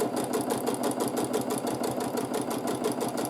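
Domestic sewing machine free-motion quilting a fabric sandwich, a steady rapid needle chatter running continuously at close range with no one talking.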